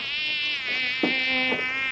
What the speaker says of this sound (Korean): 파리가 지나갔나?